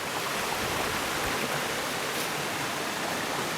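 A stream of cold fresh water flows steadily in the Japanese outdoors, a continuous broadband rushing and splashing at even volume, fairly close, with no voices.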